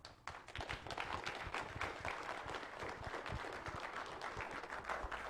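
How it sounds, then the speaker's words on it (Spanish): An audience applauds after an education panel talk, a quiet but dense patter of individual claps heard at a distance throughout. "Los aplausos reflejan la gratitud por habernos ilustrado también algunos aspectos relevantes de la innovación."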